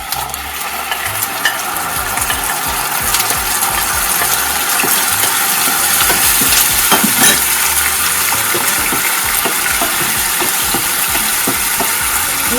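Kerala-style chicken 65 sizzles loudly in a pan with curry leaves and chilli sauce while a utensil stirs it, the steady frying hiss broken by repeated scrapes against the pan, with no talking.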